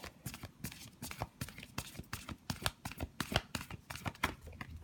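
Tarot cards being shuffled by hand, a quick run of crisp riffling bursts in a steady rhythm, close and moderately quiet, with no talk.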